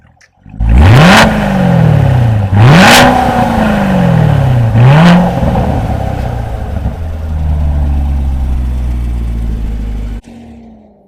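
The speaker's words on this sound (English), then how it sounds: "I'm going to show you what the exhaust sounds like." 2016 Corvette Stingray with the stock Z51 performance exhaust, started and blipped loudly three times in quick succession, each rev swelling and falling back, then settling to a deep, close idle before cutting off.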